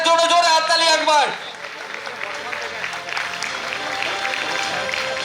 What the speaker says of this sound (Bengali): শুভেন্দু স্যারের জন্য জোরে হাততালি একবার